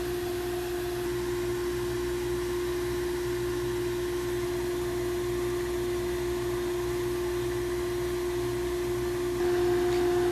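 Sandblasting engraves a natural stone paver brick through a 4mm mask, producing a constant loud hissing rush with a steady motor-like hum beneath, unbroken from start to finish.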